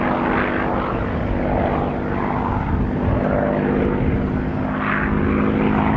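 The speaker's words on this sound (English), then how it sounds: "the North American P-51D Mustang also relied on the Rolls-Royce Merlin engine" A North American P-51D Mustang built in 1944, powered by a Rolls-Royce Merlin engine, flies at an airshow; its steady propeller drone holds continuous and fairly loud throughout, with no voices.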